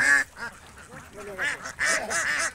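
Domestic egg-laying ducks from an open-range flock of about 450 in Natore's Chalan Beel wetland quack in bursts of overlapping calls, moderately close, with voices briefly in the background.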